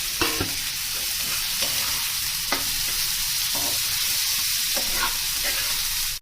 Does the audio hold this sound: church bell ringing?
no